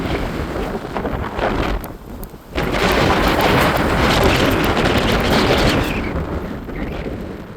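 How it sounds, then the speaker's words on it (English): Heavy wind buffets the microphone outdoors at an abandoned mall, a loud, rumbling roar briefly dropping off before gusting back strongly and continuing. "I'm sorry about the wind, guys."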